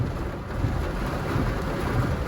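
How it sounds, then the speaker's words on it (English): Steady rain pours down during a storm at a town square, a dense, even wash of noise that continues unbroken throughout, with no voices. "Because of the rain, the police is not here."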